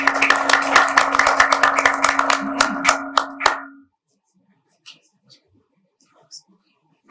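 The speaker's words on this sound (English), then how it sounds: "Round of applause, ladies and gentlemen." Audience round of applause at a ceremony in the US Congress, crisp clapping from a modest crowd with a steady hum behind it, stopping abruptly after a few seconds and leaving near silence.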